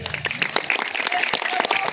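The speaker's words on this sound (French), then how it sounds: "On les applaudit bien fort." A campground audience applauds children after a hypnosis show, a short burst of dense clapping mixed with cheering voices.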